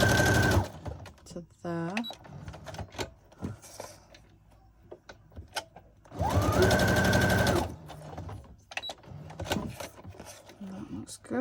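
A sewing machine runs a straight stitch on collage tags in two loud, close bursts of rapid whirring, with quieter handling clatter between them and a voice speaking briefly.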